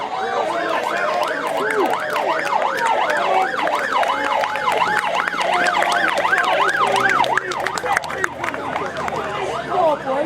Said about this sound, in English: Ambulances coming through, which they are allowing to come through.